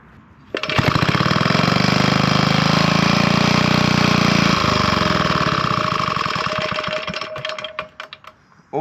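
A rare Villiers MK-9 stationary engine starting on choke, catching suddenly and running loud and steady with a fast, rough putter for several seconds before it dies away.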